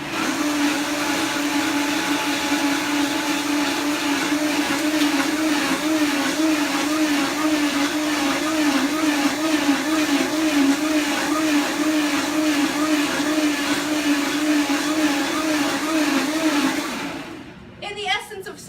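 A blender whirs steadily at high power while blending avocado soup, a loud, continuous motor drone running close for most of the stretch before it stops abruptly near the end.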